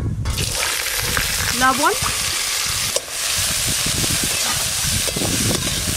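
Washed sour fruits dropped into hot mustard oil with five-spice tempering in a pan on a village clay stove, a steady loud sizzle and hiss throughout with occasional stirring and a brief spoken word.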